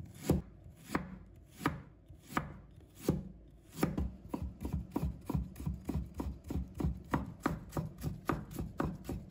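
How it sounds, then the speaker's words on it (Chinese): A knife shreds a piece of fresh ginger on a board with crisp, rhythmic chops. The strokes start spaced and then quicken into a steady, even beat, close and clear with nothing else heard. "接下来我们准备1块生姜，把它切成丝。"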